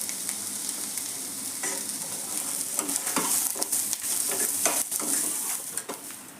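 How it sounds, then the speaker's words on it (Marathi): Onion poha with peanuts sizzles in a pan while a spoon stirs and scrapes it, giving a steady frying hiss with irregular close scraping clatters. "आता आपण हे चांगल्या प्रकारे परतून घ्यायचं।"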